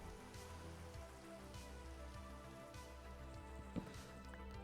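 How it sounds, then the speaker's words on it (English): Rain in a hardcore-mode Minecraft world patters steadily and softly, an even wash of drops with no voices over it. "Listen, I like the rain normally, just not when it could potentially kill me."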